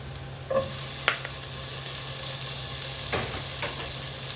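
Reused cooking oil, previously used for frying fish, sizzles and crackles steadily in a pan, with a few scraping stirs and clinks, close and fairly quiet.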